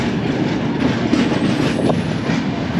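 The Avadh Assam Express at Sarupathar railway station in Assam, a steady, close, loud rumble of rolling wheels with rhythmic clacking, without speech.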